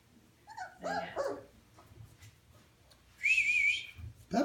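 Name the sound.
puppies barking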